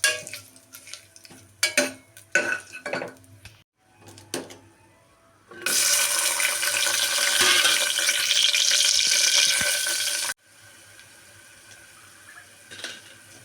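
Bay leaf, cinnamon, star anise and stone flower sizzle in hot oil for chicken biryani after a few clinks and stirs of a utensil in a pan, a loud steady frying hiss that cuts off abruptly.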